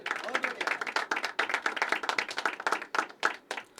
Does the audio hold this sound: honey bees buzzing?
no